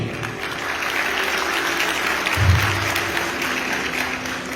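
An audience, mostly women, bursts into sustained applause, a dense steady wash of clapping at a hall event that swells briefly midway and carries on without speech.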